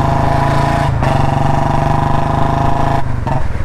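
A loud, close Royal Enfield Bullet motorcycle engine running with a deep, steady thumping beat, briefly dipping twice before picking back up.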